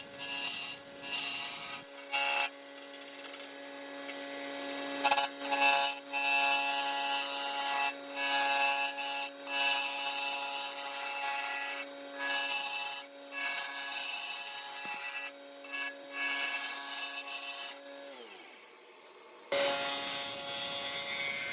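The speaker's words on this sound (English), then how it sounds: "So here I'm using the Carter and Son bowl gouge, which I use for most of my projects" A wooden rolling pin turning on a lathe while a Carter and Son bowl gouge cuts it, giving a steady scraping, rubbing hiss with short pauses and shifts in the cut, close and moderately loud throughout.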